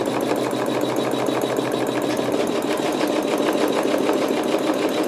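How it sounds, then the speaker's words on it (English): A sewing machine runs steadily as it stitches fabric at a slow pace, a loud, even mechanical whir with a fine rhythmic needle pulse that never stops. "Keeping the machine slow so I can stay ahead of it."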